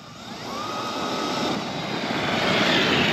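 A Traxxas X-Maxx RC truck with a Castle 1260kv motor and Hobbywing G2 Max6 controller runs at full throttle, a continuous loud whirring rush that swells slightly over a few seconds.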